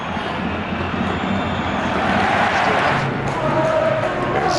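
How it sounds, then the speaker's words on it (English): Dense, steady football stadium crowd roar at the Calderon, home of Atletico Madrid, during a match against Barcelona, a broad wash of noise from many voices swelling slightly midway. "to silence the growing noise of his Calderon crowd"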